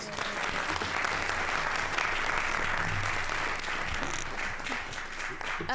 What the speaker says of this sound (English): I would like for you to join me in giving her a round of applause.